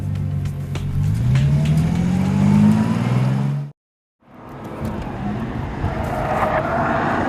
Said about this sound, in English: driving this new extreme Bentley around this phenomenal track